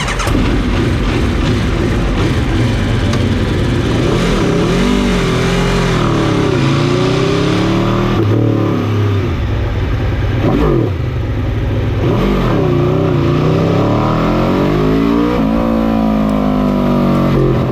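A self-assembled motorcycle engine runs loud and close, idling roughly and revving up and down repeatedly in rising and falling sweeps for the whole stretch.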